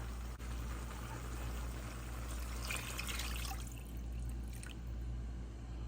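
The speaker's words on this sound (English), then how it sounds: "I'm going in with 3 cups of water." Three cups of water pouring and splashing into a pot for chicken noodle soup in a short steady stream over a constant low hum, then trailing off into drips.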